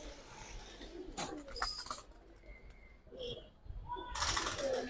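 Giribaz pigeons coo softly nearby in brief, muffled bursts mixed with scattered rustling and small clicks, quiet and intermittent.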